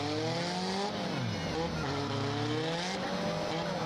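A battered demolition derby car pulls away at a speedway arena, its engine revving and wavering in pitch with tire scrub, while an announcer talks over a loud crowd-filled background.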